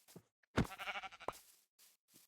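A Minecraft sheep bleats once, loud and wavering, followed by a few faint short bleats in an otherwise quiet background.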